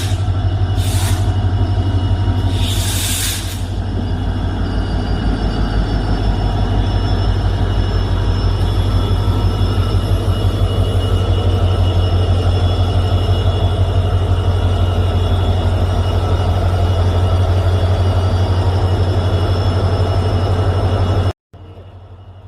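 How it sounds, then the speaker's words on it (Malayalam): A local MEMU train running at a quiet station in Palakkad, Kerala, gives a steady, loud low rumble with a faint high whine throughout, broken by two brief hissing bursts early on. It cuts out near the end. "ഇപ്പോൾ ട്രെയിൻ വരുന്നുണ്ട്."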